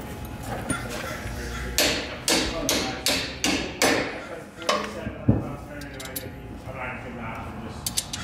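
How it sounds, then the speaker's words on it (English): A hammer taps an auxiliary shock into place on an Agile Sprinter 4x4 MAX van, about six sharp metallic blows in a quick series, followed by lighter clanks and tool handling nearby. "You can also use a hammer to tap it up."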